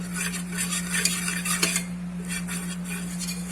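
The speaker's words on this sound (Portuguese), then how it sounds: "vou misturar com tranquilidade, até essa farinha se incorporar aqui na manteiga." A utensil scrapes and stirs flour into melted butter in a pan to make a roux, soft continuous scraping strokes over a steady electrical hum, with no one speaking.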